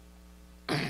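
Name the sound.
throat clearing from a tickle in the throat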